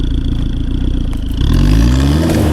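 A car engine idles close by, then revs and rises in pitch as the vehicle pulls away, loud and steady with no voices over it.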